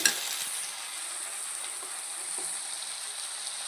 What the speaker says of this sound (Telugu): ఇప్పుడు పచ్చిమిరపకాయలు ఉల్లిపాయలు వేసేసుకుందాము ఇది బాగా ఫ్రై చేసుకుందామండి